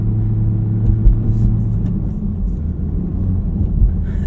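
A 2023 Honda Civic Type R on 18-inch wheels and tires driving over a lightly powdered snowy road, with a steady low engine and road rumble heard from inside the car, loud and continuous.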